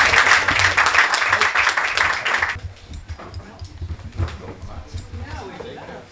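Audience applause at a spoken-word poetry evening in a Rotterdam venue, dense clapping filling the first half and then thinning to scattered claps and room noise.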